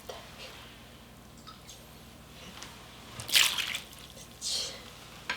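Kimchi broth is poured into white kimchi in a home kitchen, with faint wet drips and sloshes followed by two louder splashy bursts, quiet and close, with no voices.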